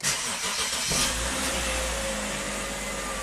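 A turbocharged BMW X5 with a swapped engine cranks and catches, then settles into a steady, close idle that hums on alone to the end.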